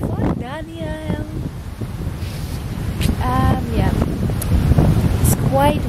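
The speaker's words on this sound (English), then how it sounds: "It's quite windy." Strong wind roars across the microphone on a solo sailing voyage on the open ocean, with waves and water rushing, while a person speaks intermittently over the gusts.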